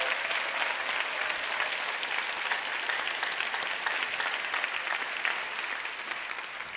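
Audience applause in a hall, dense steady clapping from a large crowd, loud and sustained throughout before easing slightly at the end.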